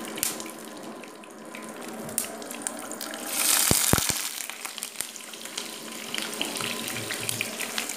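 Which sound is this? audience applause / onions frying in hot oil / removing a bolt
onions frying in hot oil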